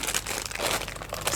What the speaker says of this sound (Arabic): نحط بقى الكريمه في كيس الحلواني